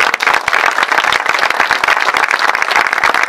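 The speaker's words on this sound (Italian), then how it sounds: "Un ulteriore applauso a loro" An audience at an outdoor concert applauds, dense and loud steady clapping from many hands throughout.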